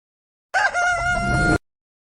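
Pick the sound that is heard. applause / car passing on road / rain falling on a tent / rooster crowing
rooster crowing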